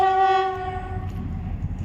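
A train standing at a station sounds a loud, sustained horn tone that fades after about a second, leaving low rumbling engine and platform noise underneath.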